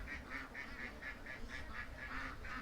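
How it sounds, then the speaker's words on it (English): Ducks gather at a feeder at night, giving a steady run of about a dozen evenly spaced honking quacks at close range over low background noise. "Okay, we got a hurt duck."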